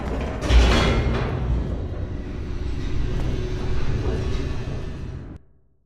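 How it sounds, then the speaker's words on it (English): An elevator in The Stanley Parable descends in a steady, loud mechanical rumble and hum, with a brief creak near the start, continuing unbroken for about five seconds before cutting off abruptly. "The elevator raced downward, plummeting towards an unknown fate."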